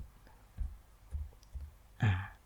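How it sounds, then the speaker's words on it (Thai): The word dragon is typed on a computer keyboard: a few soft, separate key clicks spaced about half a second apart, then a slightly louder clack at the end, all fairly quiet. "ผมพิมพ์คำว่าดากอน"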